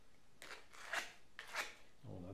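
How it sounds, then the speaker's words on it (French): An insert for a carbon drum shell being abraded by hand, heard as three short, rough scraping strokes, faint and close. A brief voice starts at the very end. "On abrase avant de tremper."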